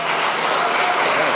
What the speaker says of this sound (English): Please give a round of applause for Mike Hennessy.